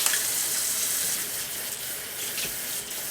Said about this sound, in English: I'm going to go ahead and rinse it.